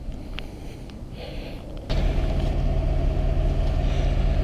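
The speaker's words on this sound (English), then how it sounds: "got to throw a couple donuts in too" A Ford F-150 FX4 4x4 with a 5.0L Coyote V8 doing donuts: a low engine idle rises abruptly into a loud, sustained roar of revving and tire noise.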